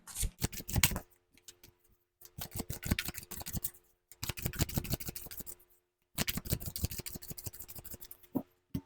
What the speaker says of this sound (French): On continue avec un troisième tirage de tarot.